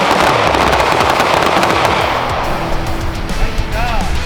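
Rapid pistol gunshots ring out at a combat pistol course, a loud dense volley of close cracks that blur together, with a voice briefly audible near the end.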